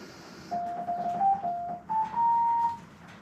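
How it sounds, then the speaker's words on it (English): Inside a Ford Bronco during an audio upgrade, the amplifier plays a short, faint chime melody after a successful test, a few stepped electronic tones that rise in pitch over about two seconds, with no voices. "I guess that was the happy sound, or the happy music"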